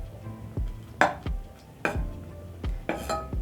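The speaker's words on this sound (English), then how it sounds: "Then I'm going to stir" Butter being stirred into homemade condensed milk in a pot, a utensil scraping and knocking against the pan in a few distinct strokes, close and fairly quiet, with no talking.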